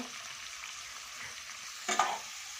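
Beans, carrots and green chilli frying in oil for masala uppittu, a soft steady sizzle with a short stirring clatter near the end.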